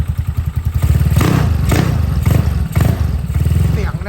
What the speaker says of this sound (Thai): รถสตาร์ทง่ายนะครับทีเดียวติดนะครับ เครื่องไม่ดังนะครับ